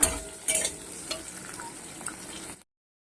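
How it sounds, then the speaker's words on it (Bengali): Potato frying in hot oil in a pan with a steady sizzle, broken by a few scraping stirs near the start, then cutting off abruptly before the end. "এটাকে ভাজবো দুদিন নিয়ে নেড়ে চেড়ে নেবো এটাকে"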